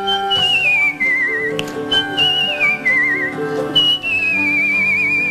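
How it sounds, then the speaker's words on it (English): A skilled whistler carries a bright, clear tune in long descending phrases with a trilling vibrato, loud and close, with a few brief breaks between lines and nothing else over it. "These skilled lips can whistle anything and everything."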